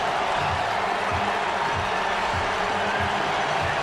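More than 50,000 fans at a CFL football game between the Calgary Stampeders and Edmonton Eskimos make a dense, steady roar that stays loud and unbroken throughout.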